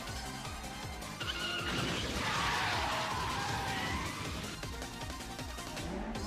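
A car driving recklessly in the Initial D anime, with tires squealing and skidding over a roaring engine, loud and sustained for several seconds.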